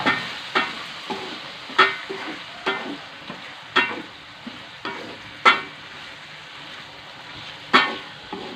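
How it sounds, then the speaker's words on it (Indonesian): Fried noodles with shrimp and green beans, seasoned with tomato sauce and sweet soy sauce, are stirred in a sizzling pan; steady frying hiss is broken by about a dozen sharp spatula scrapes at an irregular pace. "Kita aduk lagi."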